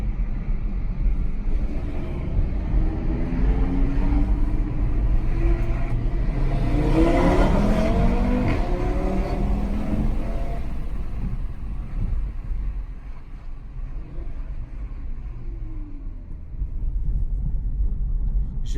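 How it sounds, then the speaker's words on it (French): An Audi's engine revs up hard as the car accelerates, a loud, close rumble that swells and then settles into a steady drone, with no talking over it. "pour que vous entendiez quand même ce bruit magnifique de l'Audi"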